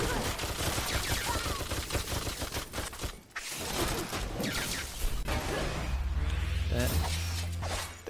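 Rapid enemy gunfire in the co-op brawler Full Metal Furies crackles as continuous bursts of shots under game effects and music. It stops briefly near the middle, then resumes dense and steady.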